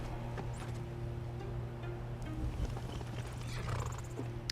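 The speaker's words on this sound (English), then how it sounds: "Let's tether the horse." Horse in the video game Ashes snorting and whinnying over steady clip-clop hooves and a low droning game soundtrack, continuous and close throughout with no talk.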